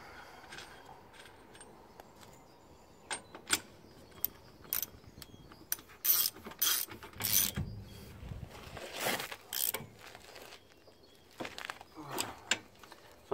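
Wrench tightening the nut on a Ford rear brake drum, a series of close irregular metallic clicks and ratcheting scrapes with pauses between, fairly faint.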